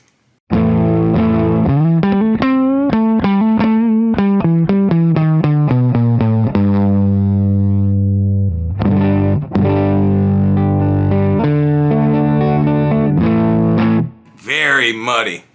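Distorted electric guitar, a cheap Amazon Les Paul copy on the neck pickup, playing fast picked riffs and then held chords, thick and loud, close, with a voice speaking briefly at the very end.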